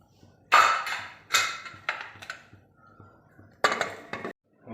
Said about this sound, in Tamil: குக்கரை நம்ம இப்போ மூடிடலாம்.